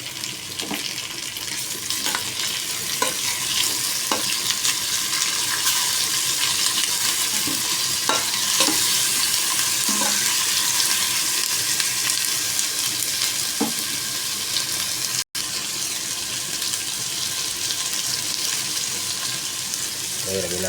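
Tomatoes stirred in a frying pan while cooking squid adobo with green bell pepper, a continuous sizzle broken by repeated clacks and scrapes of the spatula against the pan.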